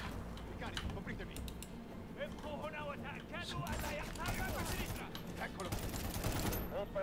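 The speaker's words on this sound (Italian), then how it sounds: "Adesso stai sparando a qualcuno." Gunfire in the shooter video game Medal of Honor Warfighter, with rapid bursts and mechanical clatter mixed with game sounds, while people talk over the action.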